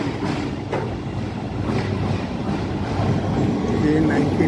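A Chicago metro train arriving at a station, a steady low rumble and rattle of rail cars building slightly in loudness, with a faint wheel squeal toward the end and people talking in the background.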